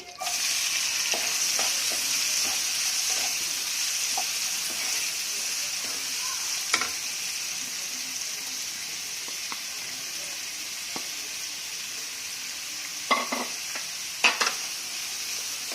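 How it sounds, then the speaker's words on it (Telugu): Onions fry with cloves, cardamom and cumin in oil in a pan for gongura chicken curry, giving a steady close sizzle throughout, broken by scattered scrapes and taps as a spoon stirs them. "బ్రౌన్ కలర్ వచ్చే వరకు ఫ్రై చేసుకోవాలి."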